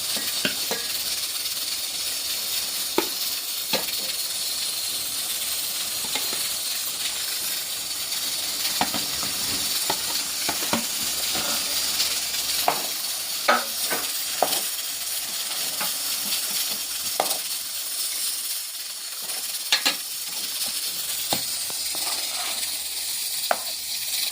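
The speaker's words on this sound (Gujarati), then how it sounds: "જો બટેકા નાખી દીધા છે વઘારવાના" Potatoes frying in hot oil as a tempering for papad masala, giving a continuous loud hiss with frequent small crackles and pops throughout, without talk.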